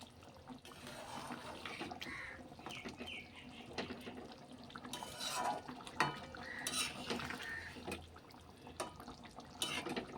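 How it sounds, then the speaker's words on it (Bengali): Cauliflower and egg curry being stirred in a pot, with soft metallic scrapes and clinks of a spoon against the vessel, faint and close, repeating irregularly without speech. "সব কিছু মিশিয়ে নেব"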